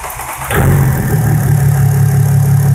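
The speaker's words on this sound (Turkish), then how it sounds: "Şimdi taktık. Marşa basacağız." Mercedes ML300 CDI V6 diesel engine, running without its exhaust fitted, is cranked and catches, then settles into a loud, steady, rough idle close by.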